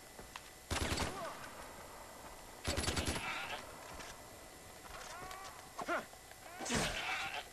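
Goat bleats and bursts of gunfire sound quietly from the Far Cry 4 video game, spread unevenly across several seconds with faint game ambience between them.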